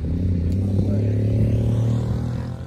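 Right-hand-drive Toyota Supra idling and rumbling close by on a German street during a car cruise, a steady low engine drone with a brief rev, while people talk over it.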